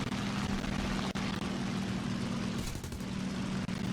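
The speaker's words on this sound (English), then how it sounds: "Wait, is this a bomb plane?" A bomber plane's propeller engine in a video game drones loud and continuous for the whole stretch, a dense steady roar with a low hum and brief dips in level.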